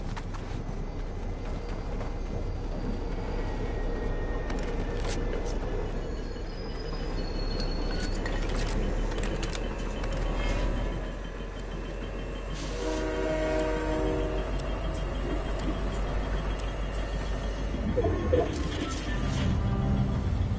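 A train rumbles along its tracks in the video game Fortnite, a loud continuous rolling din with clattering wheels and a sustained horn-like tone in the middle, while a player talks over it at times.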